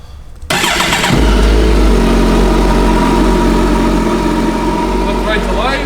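A 2009 Kawasaki Concours 14 motorcycle cranks and catches, then settles into a loud, steady idle close by. A voice speaks briefly over the running engine.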